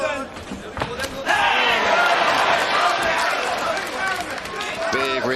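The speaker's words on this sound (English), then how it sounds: "Big reaction from the crowd," At a Cage Warriors MMA fight in Glasgow, an arena crowd erupts in a loud roar of cheers after a heavy punch lands, swelling and holding for a few seconds under the commentators' voices.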